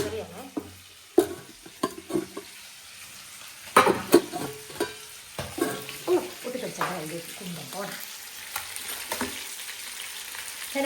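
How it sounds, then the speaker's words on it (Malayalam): Fish frying in a pan for a Kerala-style home meal, with intermittent spattering sizzle and scraping stir sounds coming in sharp bursts, close and moderately loud, with background noise between. "സൈഡ് വറക്കുമ്പോൾ ആദ്യം ഒന്ന് മൂടി വെച്ച് വറക്കും"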